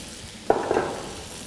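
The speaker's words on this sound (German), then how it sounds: "jetzt werden die Fleischstücke noch mal ganz kurz nachgebraten" Beef fillet steaks searing briefly in a pan with butter, a quiet background hiss broken by a sudden sizzling burst as the meat hits the hot fat, fading over about half a second.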